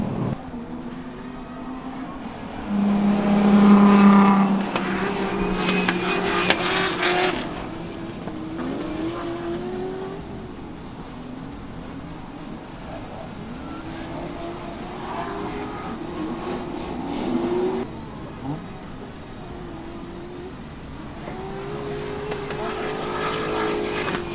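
Drift car lapping the MSR Houston circuit during a drift competition, its engine note rising and falling steadily through the laps with a louder surge near the start, heard at moderate distance without talk.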